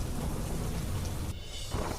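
Heavy monsoon rain pours steadily in Gujarat with a deep rumble of thunder rolling underneath, a dense, loud, continuous wash of sound with no voices.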